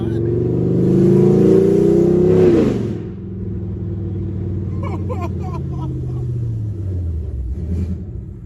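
A 5th-generation Camaro SS with long tube headers revs hard and loud for about two and a half seconds, then drops into a deep, rumbling idle that slowly fades, with brief voices over the engine.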